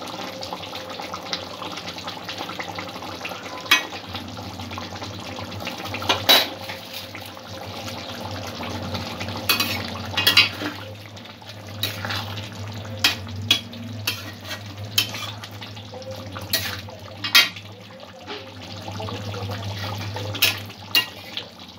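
Vegetable korma gravy simmering in a pan: a steady, soft bubbling sizzle runs throughout, broken by occasional sharper clinks and scrapes of stirring, with no voices.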